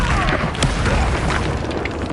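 In the Hogwarts Legacy video game, a Depulso spell is cast: a loud, forceful boom bursts out, layered over busy game effects and rumbling that carry on throughout.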